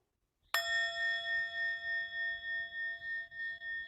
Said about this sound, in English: Shantum, can you invite the sound of the bell